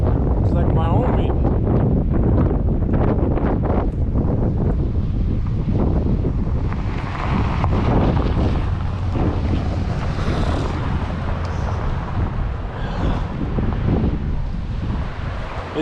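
Strong wind buffets the microphone continuously with loud roaring gusts on a chilly dirt road along the Mogollon Rim, and no voices are clear.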